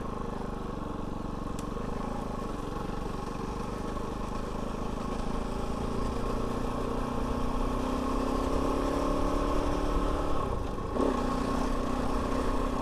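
A Kove 450 Rally motorcycle rides along a dirt trail, its engine droning steadily with gentle rises in pitch as the throttle opens, heard up close over constant rolling and wind noise.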